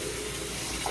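Tap water pouring steadily into a sink for a rinse, a continuous close hiss and splash with no break.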